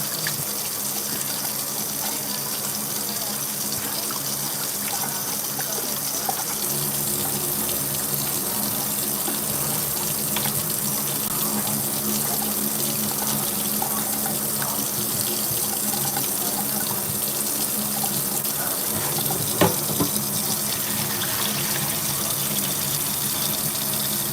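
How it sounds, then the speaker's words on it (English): Tap water gushes steadily into a sink while raw chicken is washed for soup, a continuous close rushing flow with no talk over it. "I just keep washing it until it's clean. The water comes out clean."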